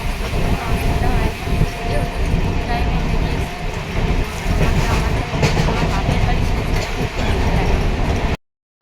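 Steady, loud rumble and rattle of a nearly empty passenger train running on the line from Lokenath toward Rishra, heard from inside the carriage. Continuous wheel and track noise carries through with voices mixed in, then cuts off abruptly at the end.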